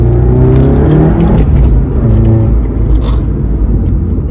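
A Volkswagen MK7 GTI pulls hard under acceleration, its engine a loud, continuous drone that holds strong for the whole stretch with no talking.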